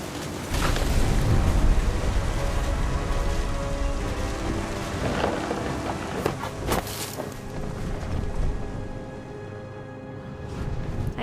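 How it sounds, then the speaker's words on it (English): Heavy rain pours steadily in a thunderstorm in the video game What Remains of Edith Finch, with a few sharp thunder cracks and rumbles breaking through a dense, continuous hiss. "The thunder sounded much too close and full of angry power."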